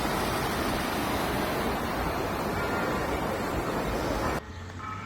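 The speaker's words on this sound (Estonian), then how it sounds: "Vesi pulisemas." Cascata Varone waterfall near Lake Garda, a dense steady roar of splashing water heard close up, filling the whole clip before dropping abruptly to quieter rushing at the end.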